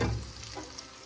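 Squid rings fry in oil over high heat, giving a soft, steady sizzle that starts a touch louder and then settles into a faint, even crackle.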